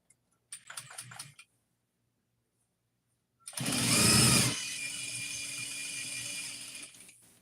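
A sewing machine stitching jogger fabric, a short burst of rapid stitching, then a pause, then a longer steady whirring run of fast mechanical stitching that stops abruptly.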